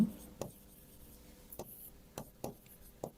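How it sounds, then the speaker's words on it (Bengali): A pen writes a question on paper, giving faint scratchy strokes with several sharp taps as it lifts and touches down, close and quiet with no talk. "ধরো ডিউ এর একটা প্রশ্ন লিখি"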